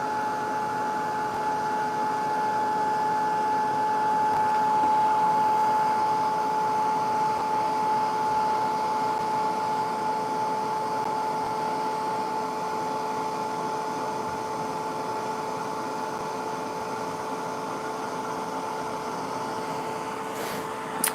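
A small heat embossing tool blows hot air in a constant, fairly quiet whir with a steady high whine, running unbroken for about twenty seconds and ending with a faint click, no speech over it.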